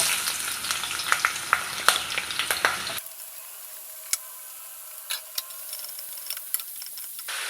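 Sliced onions and green chillies sizzle and crackle in hot coconut oil for prawn biryani, loud and busy at first, then settling into a quieter hiss with sporadic pops.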